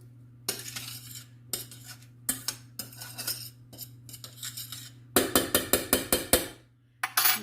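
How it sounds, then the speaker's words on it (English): Metal utensils clink and scrape against a pan while food sautes, coming as a run of irregular taps followed by a rapid cluster of sharp clatters, close and without talk. "we're gonna go ahead and let that saute some"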